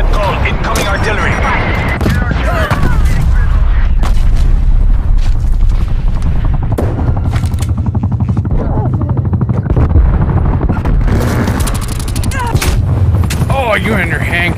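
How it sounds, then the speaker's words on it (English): Incoming artillery strike in Call of Duty Cold War, a loud, dense barrage of gunfire and booming blasts with sustained rumble, while players talk over the battle. "incoming artillery"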